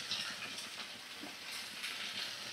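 Chopped carrots, cauliflower and Malabar spinach fry together in oil, giving a faint, steady sizzle with soft stirring pulses, quiet and without talking.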